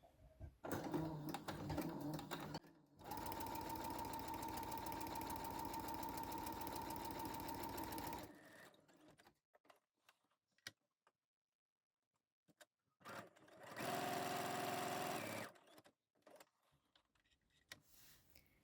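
A sewing machine stitches quilted fabric in two long bursts of steady, close mechanical whirring, with a short stretch of stitching before and a quiet pause in between.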